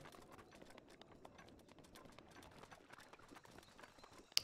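A horse trots in a Zelda open-world adventure game, giving a faint, steady run of soft clip-clop hoofbeats with a single sharp click at the very end.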